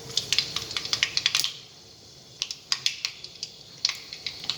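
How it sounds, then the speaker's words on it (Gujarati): Mustard seeds crackling in hot oil in a pan while cooking a sandwich filling, a close run of sharp irregular pops and ticks that pauses briefly and then resumes, with no talk. "રાઈ તતડે એટલે આપણે જીરું નાખીશું"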